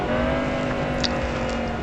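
Steady, droning Camaro ZL1 race car engine hum in the video game Real Racing 3, loud and constant, with a brief higher whine midway as the car runs on.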